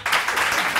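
Studio audience applause on a Pakistani morning TV show, a brief burst of clapping that holds steady and fairly loud throughout, with no talk over it.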